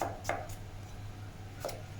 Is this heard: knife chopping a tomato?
yes